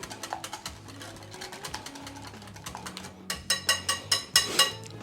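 Vinegar being stirred into a homemade French mayonnaise emulsion in a bowl: soft mixing at first, then a quick run of rhythmic, louder scraping clicks near the end, with no talking.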